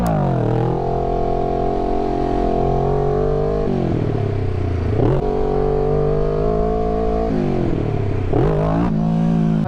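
Kawasaki Ninja 650 motorcycle engine recorded up close during a wheelie, holding steady loud revs, then dropping and rising again several times as the clutch is worked and the bike coasts.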